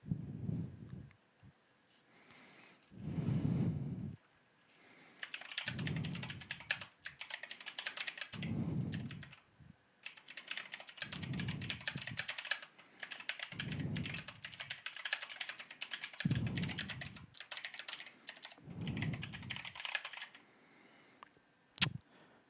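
Loud computer keyboard typing in bursts of rapid clicky keystrokes, with short pauses between runs, alongside recurring low thumping sounds and a sharp click at the end; no talking.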